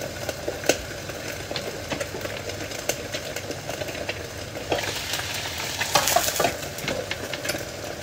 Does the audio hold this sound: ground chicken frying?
yes